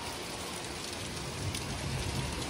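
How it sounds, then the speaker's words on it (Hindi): Heavy rain pours outside a village house, a steady broadband hiss of falling water that stays close and continuous, with no talk over it. "बाहर हो रही है जोरों की बारिश"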